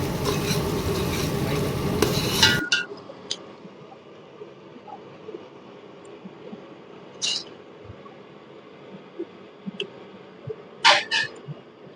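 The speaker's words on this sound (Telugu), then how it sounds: "మనం పచ్చి మిర్చిని మంచి బ్రౌన్ కలర్ వచ్చేదాకా ఫ్రై చేసుకోవాలి" Green chillies frying in a pan until brown, a loud dense sizzle for the first couple of seconds that then drops to a faint background hiss with a few scattered scrapes and clinks.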